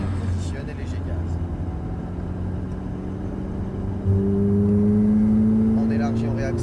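Ferrari F430 engine on a racetrack, droning steadily under close instructor-style talk, then swelling louder as the car accelerates hard, with a rising engine tone in the last few seconds.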